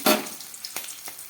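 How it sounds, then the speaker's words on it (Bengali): Mung dal with cumin seeds frying in hot oil: a loud initial sizzle that settles into a soft crackle, with a couple of stirring scrapes and no voices. "ডালটা খুব হালকা করে ভেজে নিলাম।"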